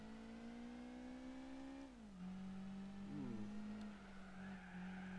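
A rotary-engined race car in Gran Turismo 4 hums at a steady pitch, drops briefly as it shifts, then holds a droning, buzzy exhaust tone with no voices.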